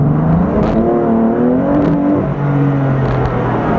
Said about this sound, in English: I'm just going to give you an example of the second gear acceleration.